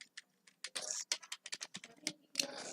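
Typing on a computer keyboard while entering SQL code: a quick run of sharp, close key clicks in uneven bursts, with brief pauses between groups of strokes.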